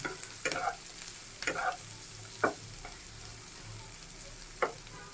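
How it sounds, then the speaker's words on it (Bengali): A spoon scrapes and stirs a paste in a pan several times at uneven intervals over a soft, steady frying sizzle, browning it lightly for a rohu fish dish. "এটা এখন আমি একটু লাড়াচাড়া করে একটু হালকা লাল করে নেব"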